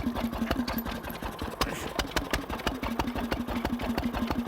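A stationary steam engine at a steam rally drives a small domestic water pump, giving a steady rapid mechanical chuffing and clatter with an even repeating beat, close and fairly loud, with no voices.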